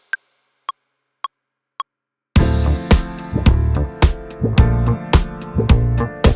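Four soft metronome clicks count in before a funk beat starts, with a single bright crash cymbal hit over punchy kick, snare and hi-hat and a bass line, loud and close with no voices.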